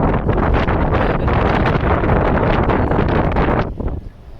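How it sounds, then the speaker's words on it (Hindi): Strong, gusting wind roars and buffets the microphone at a high mountain fort in Skardu, Baltistan, loud and continuous before easing slightly near the end. "इधर तो मेरी शर्ट आप देख सकते हैं कि कितनी कोई तेज़ हवा चल रही है।"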